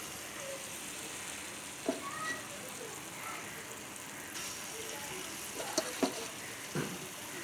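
Jackfruit-juice fritters fry in a kadai with a steady, hissing sizzle of hot oil, joined by a few soft knocks and stirring sounds partway through, close and continuous.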